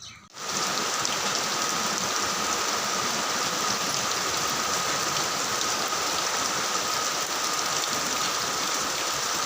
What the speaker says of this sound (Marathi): लावता लावताच पावसाला पण सुरुवात झालाय